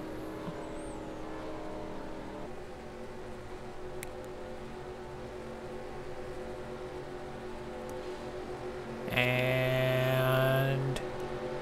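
V8 Supercar engines in a sim racing game at Bahrain's Desert 400 drone steadily as the pace car pulls in, then swell into a loud, high-pitched revving burst near the end before easing off.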